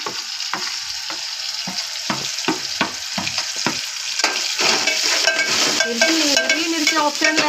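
Onion masala, homemade red chilli powder, Kashmiri red chilli powder and turmeric frying in a pan, with sharp stirring scrapes and clatter at first, then a louder continuous sizzle, close up.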